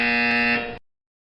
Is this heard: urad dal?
no